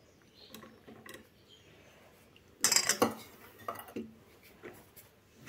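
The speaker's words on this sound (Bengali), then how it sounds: "এই যে ময়দা মিক্স করা টুটি ফুটিগুলো এবার কেকের মধ্যে আমরা দিয়ে দিচ্ছি" Spoon scraping and clinking against a bowl as flour-coated tutti frutti is folded into eggless semolina fruit cake batter, a short louder burst of clatter in the middle with softer stirring sounds around it.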